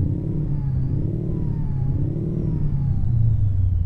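Kenworth W900 truck engine in American Truck Simulator, heard from inside the cab, revving in a steady, loud, deep drone whose pitch rises and falls gently without a break.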